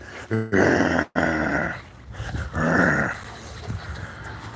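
A puppy growls while playing in water, with several loud, close bursts of rough growling and yips separated by short pauses, and no talking over it.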